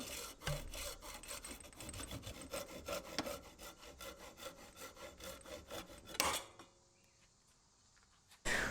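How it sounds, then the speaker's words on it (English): A hand saw cuts off the end of a PVC pipe with quick, rhythmic back-and-forth strokes close up, stopping abruptly near the end before a brief quiet pause. "we just cut off that last inch of the pipe that we talked about"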